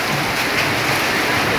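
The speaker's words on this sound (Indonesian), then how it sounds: "Baru hari ini hujan es." Hail pelting down on surfaces and a car roof in a hailstorm, a dense continuous rattling patter, loud and close, with no voices.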